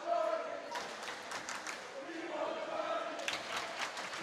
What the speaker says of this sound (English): The crowd is shouting,